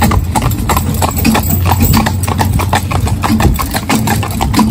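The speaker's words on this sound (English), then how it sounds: "they do make a bit of a noise. A bit of unusual, a bit different to other motorbikes" Hooves clip-clop steadily alongside a small motorbike engine idling nearby, a rhythmic clatter over a continuous low hum, close and fairly loud, near paddocks with young horses.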